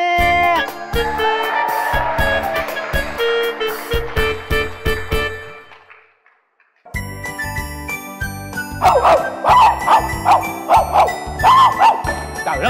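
A dog barks in repeated bursts alongside tinkling, jingling tones and a ding-dong chime, with a brief silent gap midway before rapid barking resumes under bright ringing sounds.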